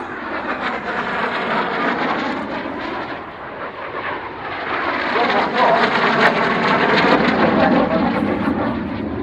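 Pair of airshow display jets trailing smoke sweep past each other head-on in an opposition pass, a loud broadband jet roar that swells and fades then builds again, with no talking.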